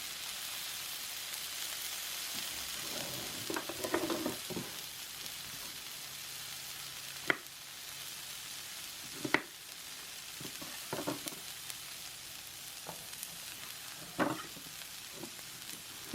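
Scallions frying in a very hot pan for vegan japchae give a soft steady sizzle, broken by occasional sharp clicks and stirring scrapes, faint and without talk.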